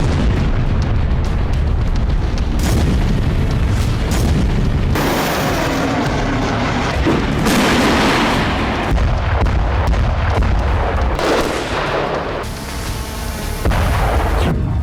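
Loud, repeated explosions from drone and missile attacks on Russian border towns, heavy booms and sharp bursts following one another with brief dips between them, close and powerful, no talking.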